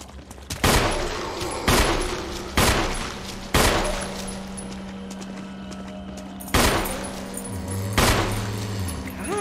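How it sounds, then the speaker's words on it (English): Gunshots fired at a zombie in the Resident Evil video game ring out as loud single blasts, spaced a second or more apart, over a low steady game drone. "I'll just shoot at you."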